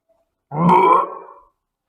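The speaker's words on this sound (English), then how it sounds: "Belched Mr. Rude" A single loud, drawn-out belch from a storyteller voicing a rude cartoon character, rising abruptly and fading over about a second in otherwise quiet surroundings.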